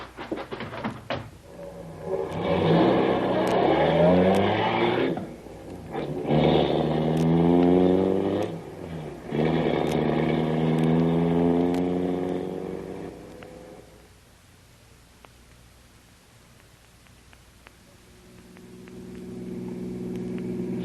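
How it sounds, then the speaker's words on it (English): A car engine roars through a chase scene in an old radio drama, surging in three long revving bursts separated by brief gaps, then settling into a low, steady idle hum, with no talking. "That must be his car just turning the bend up ahead."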